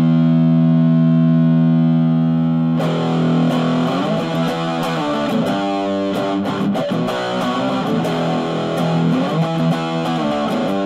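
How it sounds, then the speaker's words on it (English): Heavily distorted electric guitar plays through the distortion channel of a Marshall Lead 15 G15MS mini stack amp, starting with a sustained chord and then moving into loud, driving chugging riffs. "now we're gonna try out the high gain or the kind of the distortion channel."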